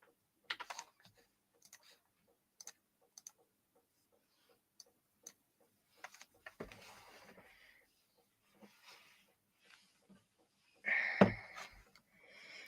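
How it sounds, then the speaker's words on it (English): Someone types on a new computer keyboard in scattered bursts of crisp key clicks, sparse and quiet with gaps of silence, ending with a louder clattering flurry near the end. "Still very happy with my new keyboard"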